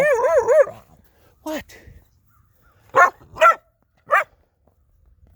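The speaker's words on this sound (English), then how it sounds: "Oh, puppies are barking at me." Small guard puppies on a farm giving a few short, high yips and barks close by, spaced apart with quiet between, after a brief spoken word at the start.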